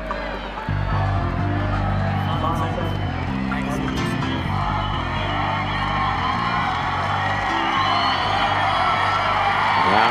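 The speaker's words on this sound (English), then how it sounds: "the crowd getting excited" A tennis crowd at the 2003 Masters match between Agassi and Nalbandian cheers and roars loudly and continuously, whoops rising out of the noise, with a low droning horn-like tone underneath.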